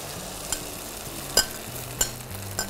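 An egg fries in hot oil in a very hot pan, giving a soft steady sizzle broken by a few light clinks of a utensil against the pan.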